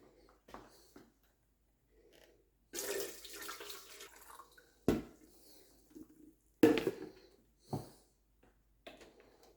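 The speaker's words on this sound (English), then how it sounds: "I'm going to put a little bleach, a couple teaspoons of bleach in some water." Water mixed with a little bleach is poured in short bursts into a cold water cooler dispenser during cleaning, close and intermittent, with splashes and gurgles separated by quiet gaps.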